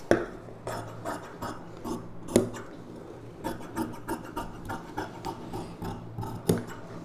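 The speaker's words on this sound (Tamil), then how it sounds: "இதை நம்ம அப்படியே கட் பண்ணி எடுத்துக்கலாம்." Scissors cutting through cloth for a 34-inch aari work blouse, irregular crisp snips and rasping strokes close by, with quiet handling in between and no talk.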